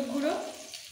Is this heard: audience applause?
no